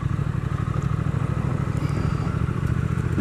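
A Triumph Thruxton RS motorcycle rides off-road, its engine giving a steady close burbling rumble with some rattling clatter from the rough ground.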